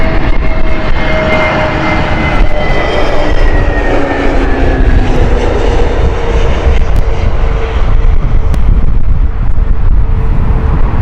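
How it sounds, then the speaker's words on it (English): A British Airways airliner on a Milan flight at Heathrow roars loudly and steadily, its jet engine tones sweeping downward as it passes close by, with no talking. "Milan flight here by Speedbird 75 Mike, operated by Tango Tango November Hotel"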